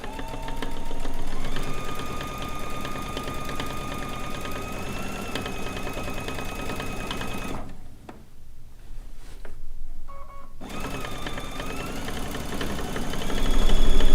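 A domestic sewing machine fitted with a C foot hums steadily while free motion quilting an overall meander, its motor pitch rising and holding, pausing briefly for a few seconds of rustling before the stitching resumes.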